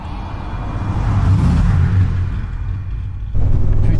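A Chevrolet Chevelle's engine rumbles deep and close, the throttle swelling steadily before a sharper, louder rev near the end.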